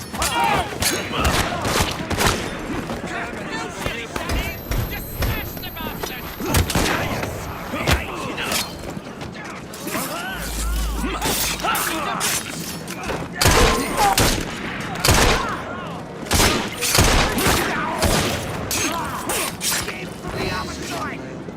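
A firefight in the video game Assassin's Creed Syndicate, with repeated sharp gunshots and bursts in an irregular rhythm across the whole stretch, mixed with shouting and clattering game sounds.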